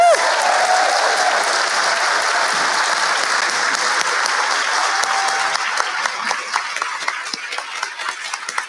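A large convention audience gives a sustained round of applause, a thick, even roar of many hands clapping that tapers slightly in the final seconds as individual claps stand out.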